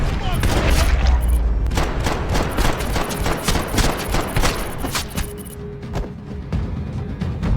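Dense Max Payne 3 gunfire as enemies in a garage are shot down, rapid loud bursts and heavy booming impacts in quick succession, close and relentless before easing off.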